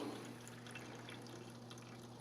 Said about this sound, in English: Siphoning out at a fairly rapid rate.